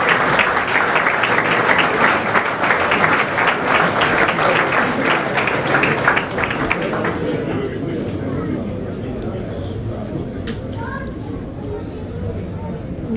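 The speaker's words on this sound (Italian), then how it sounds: "e quindi doppio applauso per il Dragon Futsal" Sustained applause from an audience at a sports awards ceremony honouring a futsal club, loud and dense for several seconds, then thinning out into scattered claps and low chatter.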